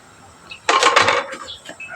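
A metal spoon clanks and scrapes inside a cooking pot of dinengdeng with crushed kardis, a short burst of loud clattering stirring after a faint tap, then scattered small clinks.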